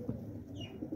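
A pigeon gives a soft, low, throaty coo, close by, with a faint higher bird note briefly in the background.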